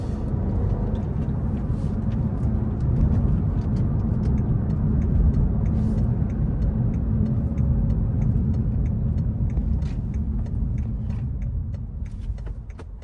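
A car with a manual transmission drives along with a steady, loud low engine and road rumble throughout, heard from inside the cabin, fading slightly near the end.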